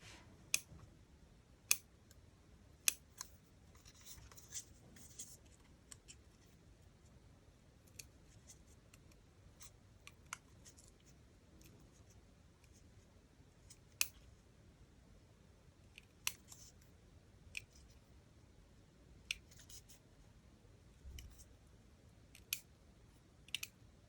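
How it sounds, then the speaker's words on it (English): Small scissors snip paper in scattered crisp clicks, one or two cuts every few seconds, quiet and close against a soft, near-silent background. "And I'll use smaller scissors."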